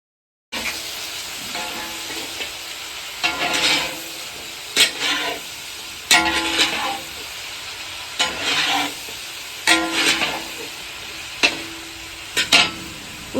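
Sweet bhaji being stir-fried in oil in a wok (kerahi), with a steady sizzle broken by bursts of scraping as a spatula works the pan several times, close and loud, with no talking.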